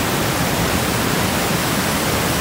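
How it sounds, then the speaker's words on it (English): Steady, dense roar of rushing water, loud and unbroken throughout, like a powerful waterfall heard up close. "Had a chance to walk to a waterfall today."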